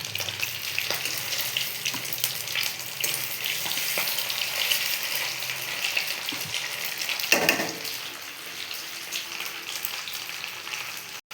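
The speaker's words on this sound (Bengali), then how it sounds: "এই যে আমি খুব অল্প অল্প চিকেন ভাজছি" Small chicken pieces for chilli chicken fry in white oil, giving a steady close sizzle and crackle that runs continuously with occasional stirring, and no talking.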